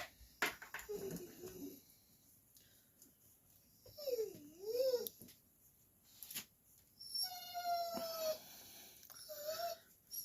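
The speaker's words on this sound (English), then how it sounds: "about the dog. He's got a loud mouth." A dog gives several loud, uneven barks and yelping calls in bursts with short pauses between them, close by indoors, with no talking over it.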